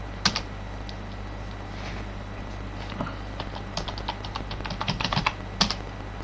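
Password being typed on a computer keyboard during a Linux installation, a run of quick, fairly close key clicks growing denser toward the end over a steady low hum, with no talking.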